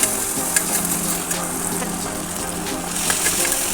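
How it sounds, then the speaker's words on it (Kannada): Tomatoes and green chilli fry in a pan with a steady, close sizzle and a few stirring knocks and scrapes. No one speaks over it. "ಇವಾಗ ಟೊಮೆಟೊ ಹಾಕ್ತಾ ಇದ್ದೇನೆ ಟೊಮೆಟೊನೂ ಸ್ವಲ್ಪ ಫ್ರೈ ಆಗಬೇಕು"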